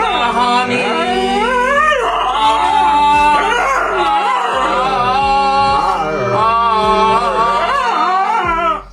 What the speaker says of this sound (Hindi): हमारे इस सिंगर डॉग को देख लीजिए, जो इस हारमोनियम के सुर से सुर मिलाते हुए अपनी दर्दनाक आवाज का जलवा बिखेर रहा है।